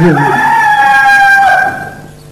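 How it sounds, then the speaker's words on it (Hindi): A chicken clucks and calls with drawn-out, tonal vocalizations, fairly close and clear, fading off toward the end. "ये तो मेरी मुर्गी की आवाज है।"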